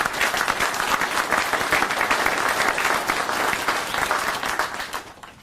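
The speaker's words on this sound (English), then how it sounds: "I think it's worth a round of applause for them." Steady audience applause at a grand opening ceremony attended by the governors of Arkansas and Missouri, dense and sustained for about five seconds before fading out at the end.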